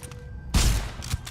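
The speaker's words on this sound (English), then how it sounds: "It shoots a laser." A laser weapon fires in a video game, giving one loud, sharp blast followed by a smaller burst a moment later.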